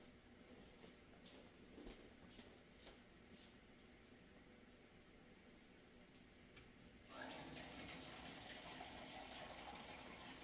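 Faint clinks and shuffling give way to water gushing steadily from a tap, a loud, even pour filling a vessel nearby.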